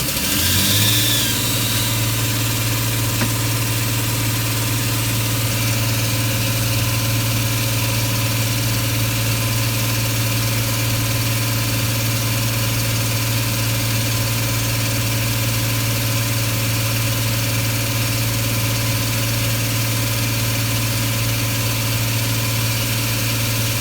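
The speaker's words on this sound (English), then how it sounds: "Set engine to wide open throttle." A John Deere 850K dozer engine runs at wide open throttle, a loud, steady, unchanging drone with a strong low hum that holds constant from start to finish.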